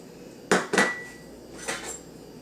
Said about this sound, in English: I'm just going to mix this 1 ounce into this quart jar